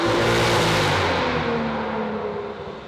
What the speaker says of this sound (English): We just stuck in a Krapovich downpipe and exhaust onto the M2